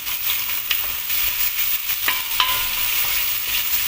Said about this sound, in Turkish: Doğramış olduğumuz sivri biberlerimizi atıyoruz. Birazcık onları kavuracağız.